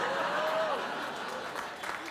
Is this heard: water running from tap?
no